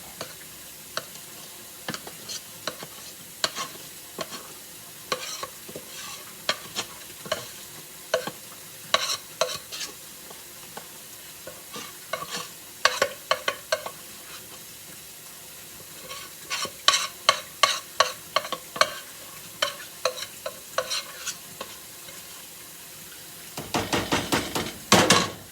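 Hot peanut brittle being poured and spread in a buttered pan, with a series of sharp scraping and tapping clicks from spoon on pan over a faint hiss, bursts clustering in places and a denser rattle at the end.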